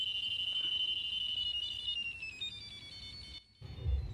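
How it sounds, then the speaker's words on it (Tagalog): A metal detector's rapid, high-pitched electronic beeping runs steadily beside an old mango tree, then cuts out briefly before a low rustle and thump; no talking. "rumarapid po o nagrarapid po yung beep ng ating sensor dyan mismo"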